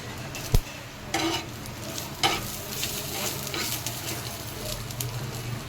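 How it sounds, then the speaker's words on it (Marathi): Garlic, ginger and grated coconut masala frying and being stirred in a pan, with a steady close sizzle broken by a few scraping stirs and a sharp knock of a utensil against the pan. "मसाला छान भाजून घेते मी."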